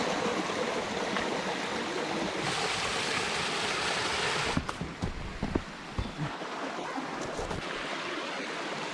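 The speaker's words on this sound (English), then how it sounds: "We've made it to the bridge where the carriage roads cross the Maple Stream here." Maple Stream in Acadia National Park rushing beneath a carriage-road bridge, a constant close wash of flowing water with a few brief knocks and scuffs partway through, no voices.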